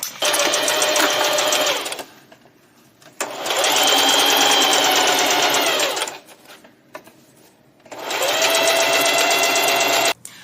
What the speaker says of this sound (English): Now I will be sewing this middle piece together because this larger piece is going to be for the back panel.